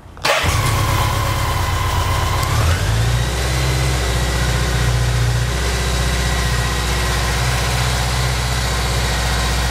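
BMW K100 motorcycle engine catching and settling into a steady, fast idle with the choke on, loud and close, holding an even drone after a brief starter burst at the start.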